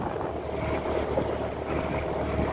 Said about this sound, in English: the wind is right on my nose, so the engine's doing most of the work